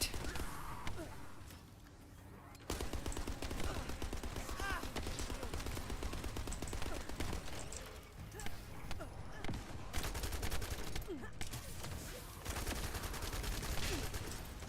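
Enemy sniper gunfire in the video game The First Descendant, played on hard mode: dense volleys of sharp shots crackle almost without pause, loud and busy amid other game effects.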